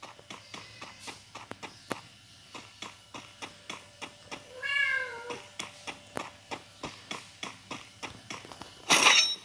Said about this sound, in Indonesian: Maaf kalau ada suara kucing juga ya guys.